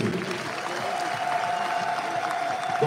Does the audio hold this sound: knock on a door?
no